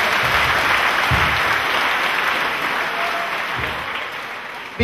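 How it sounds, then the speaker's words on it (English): Congregation applauding for Jesus at a Cameroonian church prophecy service: steady, dense clapping from a large crowd that fills the whole stretch and fades slightly toward the end. "Clap for Jesus again."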